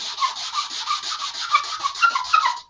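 Sandpaper rubbed back and forth over parts of an Estes Black Brant XII model rocket to remove burrs, a harsh scratchy rasping in quick repeated strokes, close and fairly quiet, with no talking.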